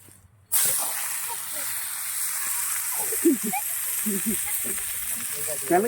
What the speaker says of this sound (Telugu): ఇప్పుడు క్లీన్ చేసినవి మెత్తళ్ళు రొయ్యలు ఇప్పుడు నూనెలో వేస్తున్నావా